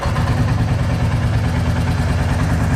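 A Royal Enfield Reborn Classic 350 single-cylinder engine idles with a steady low, throbbing rumble, loud and close, running evenly throughout with no other sounds.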